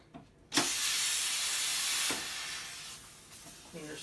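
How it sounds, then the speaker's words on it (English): A sudden loud burst of steam hissing from the steam wand of a La Marzocco GS/3 espresso machine, purging it, holding steady for about a second and a half, then fading out. "clean your steam wand."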